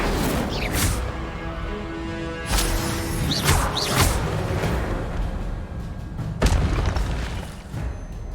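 Whooshing bursts and booming impacts of an Incendio fire spell in the Hogwarts Legacy video game, several loud blasts in quick succession over a dense game soundscape.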